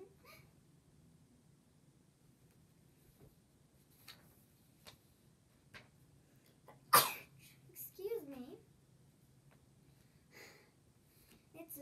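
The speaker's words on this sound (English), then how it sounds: "I have to sneeze." A single sharp sneeze bursts out close by in an otherwise quiet indoor room, followed by a brief voiced sound and a few soft clicks against a low background hum.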